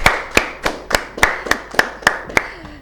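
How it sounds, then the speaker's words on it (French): One person claps hands in a slow, even rhythm, nine or ten sharp, close claps spaced evenly, alone with no talking. "moi je vais d'abord t'applaudir"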